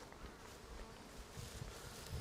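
Honey bees buzzing on a hive frame, a faint, steady, continuous hum of many insects close by with no voices.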